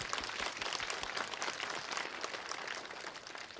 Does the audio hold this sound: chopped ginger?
no